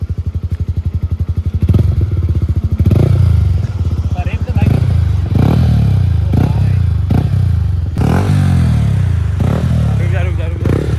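A Yamaha MT-15 BS6 fitted with a full-system exhaust revs close by in loud, throbbing bursts that rise and drop over about eleven seconds, with people talking over the engine.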